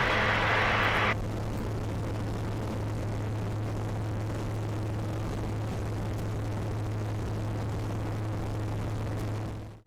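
A Eurofox microlight holds a steady, loud engine drone with a constant low propeller hum during its climb in the circuit, and a brief higher burst of noise sounds at the start.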